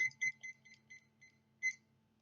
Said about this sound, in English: I put my timer on because